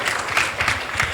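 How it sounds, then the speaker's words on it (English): Audience applause at a panel discussion on AI and copyright, a short burst of many hands clapping with uneven swells, fairly close and loud, with a voice faintly underneath. "Clap again, please."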